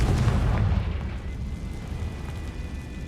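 A Confringo fire spell bursts in Hogwarts Legacy, a loud rumbling blast that fades into a sustained roar and crackle. The rumble stays heavy throughout, with no voices over it.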